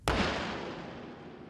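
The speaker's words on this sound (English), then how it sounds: "to watch their controlled explosion" Old explosives are blown up in a controlled explosion, heard from about 300 metres away: one sharp, loud blast followed by a long rumbling decay, with no voices.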